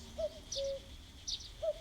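Faint bird calls in a video game: a few soft hooting notes mixed with brief high chirps, spaced out and quiet against a still background.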